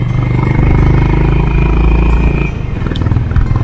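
A Honda CB350 H'ness motorcycle engine, struggling at low RPM, revs as the throttle opens, a loud close low rumble that holds steady and then drops off sharply near the end.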